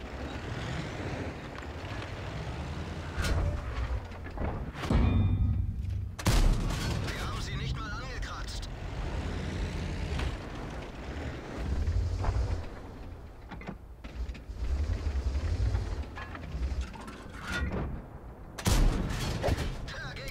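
Tank cannon fire in World of Tanks, several heavy booming shots spaced across the stretch amid engine rumble and battle noise, with someone commentating over the top throughout.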